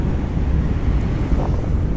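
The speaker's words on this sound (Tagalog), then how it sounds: "So mahangin." Steady wind buffets the microphone outdoors on a Manila street, a continuous low roar and rumble with no voices.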